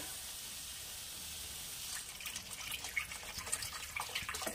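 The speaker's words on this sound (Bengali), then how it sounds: "এবারে আমি এখানে দিয়ে দেবো পরিমাণ মতন জল।" Water poured into a pan of well-fried spice paste for a Bengali katla fish curry with potatoes, a quiet rush that builds into uneven splashing and gurgling bubbles after a near-silent start, with no talk.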